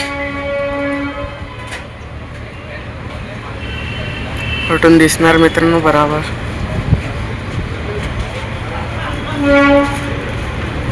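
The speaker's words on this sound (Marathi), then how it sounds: "हे अजून एक ट्रेन येणार आहे" A train passing at a busy railway crossing amid road traffic, with loud horn blasts in the middle and near the end over a rumbling wagon noise, and someone talking throughout.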